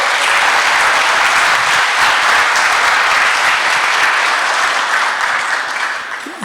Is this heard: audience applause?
yes